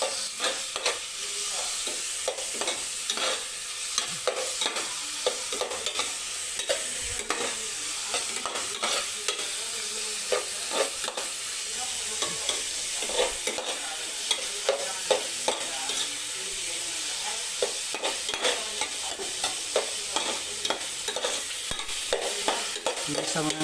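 Tomato, onion and garlic sautéing in a pan, a continuous bright sizzle broken by frequent clicks and scrapes of stirring throughout.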